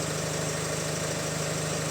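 Opel Insignia B16DTH diesel engine idling with a worn, stretched timing chain, a steady close mechanical hum with a faint fast rattling texture throughout, no speech.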